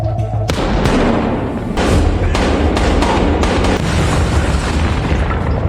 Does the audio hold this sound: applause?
no